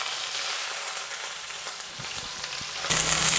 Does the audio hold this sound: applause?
no